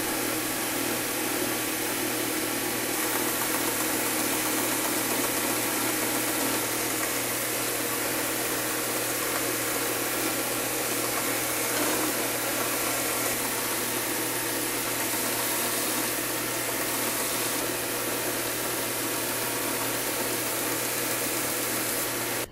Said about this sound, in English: I'll just be using a simple belt sander here.